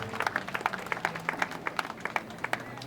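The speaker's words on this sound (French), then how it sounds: "Acclamons sa mémoire, s'il vous plaît." A crowd applauds at a funeral in memory of the deceased. The clapping is loud and steady, with a rhythmic, partly unified beat, and no talking.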